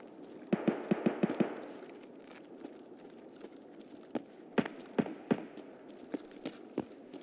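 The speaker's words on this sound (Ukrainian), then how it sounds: "Хтось там з вулиці стріляє." Gunfire outside in the video game Escape from Tarkov sounds as a quick burst of about six sharp cracks, then scattered single reports spread over several seconds, fairly faint and distant against a quiet background.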